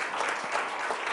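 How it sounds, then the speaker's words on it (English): Applause from a seated audience at a business meeting, a dense, even clapping that runs steadily for a moment without voices over it. "I think we should give him another round of applause for that."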